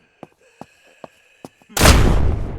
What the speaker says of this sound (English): 40 millimeter grenade